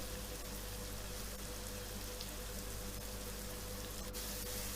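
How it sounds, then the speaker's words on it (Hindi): Small pieces of chicken frying in a pan with chili and mustard powder, a steady, even sizzle and crackle running throughout without pause. "अच्छी तरह चिकन को भूनें।"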